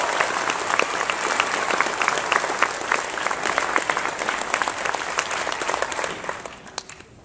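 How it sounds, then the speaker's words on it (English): A graduation ceremony audience claps for the teachers, with dense, steady applause filling the hall that gradually tapers off over the last second. "could we please give a round of applause to all of our teachers?"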